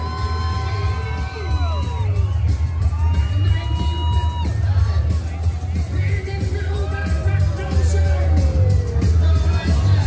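A crowd at a cover band concert at Daytona Beach Bike Week cheers, whoops and yells, with loud continuous noise from nearby and a low rumble underneath.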